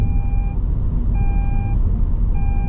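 A Toyota Veloz 2022 gives a seatbelt warning chime, three evenly spaced electronic beeps that are each about half a second long, over a steady rumble of road noise inside the cabin.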